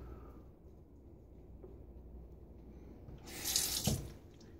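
A water tap runs into a sink during a wet shave, starting as a soft background trickle, then gushing loudly for about a second near the end before easing off.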